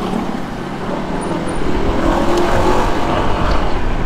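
A Honda ADV 160 scooter riding along a road, with steady engine hum and strong wind and road noise that swell slightly midway, close and continuous with no talking.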